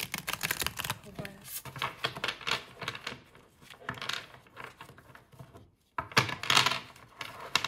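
Oracle cards being shuffled by hand in a deck, giving quick papery riffles and flicks in irregular bursts, close and fairly quiet, with a short pause before a last flurry.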